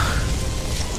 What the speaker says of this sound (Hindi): शाम को तेज बारिश होने लगी सो अलग।